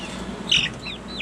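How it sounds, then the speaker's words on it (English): Meat chickens on a homestead give one or two short clucks, close by and moderately loud, over quiet background noise. "got some meat birds in there"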